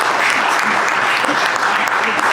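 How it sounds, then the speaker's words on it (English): Steady, dense applause from an audience at a talk on sustainable home ownership and affordable housing, sustained and fairly loud throughout without a break. "Let's give a round of applause"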